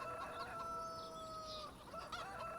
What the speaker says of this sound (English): All the chickens are laughing at me.